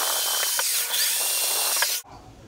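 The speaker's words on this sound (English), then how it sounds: "I'm gonna drill these on, then we'll screw the handle into place." A power drill bores holes for a drawer handle on a kitchen island build, a loud high whine running steadily for about two seconds before cutting off abruptly.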